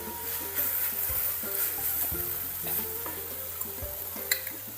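Grated coconut frying in a pan for a Kerala pathila thoran, steady soft sizzling with intermittent scraping and stirring strokes, close and fairly quiet, with one sharper clink near the end.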